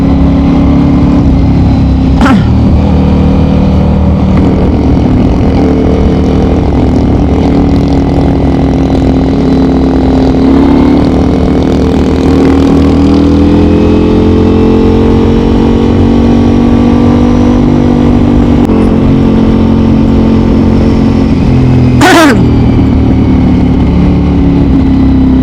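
A motorized tricycle's engine drones loudly nearby. Its pitch rises and falls as it passes, a sharp clank cuts in near the end, and no one speaks.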